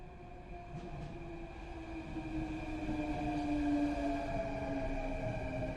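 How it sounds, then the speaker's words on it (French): A metro train rumbles steadily, its roar building gradually as it approaches, with a sustained whine over the low drone. "Lorsque le métro arriva enfin, jaillissant du néant comme un rugissement"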